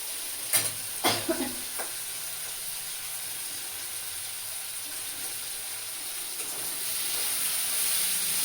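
Prawns fry with taro and spices in a pan, giving a steady, hissing sizzle throughout. A few sharp clinks of stirring come early on, and the hiss swells slightly louder toward the end, with no voices present.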